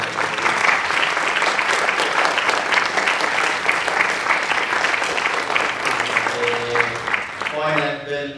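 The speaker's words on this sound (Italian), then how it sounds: "Un applauso." Audience applause fills a screening room at the Lucca Film Festival 2023 as a composer is welcomed, a dense, steady roar of many hands lasting throughout before tapering at the end with a voice breaking in.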